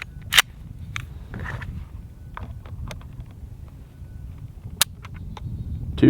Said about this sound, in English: Let's do the trigger pull here.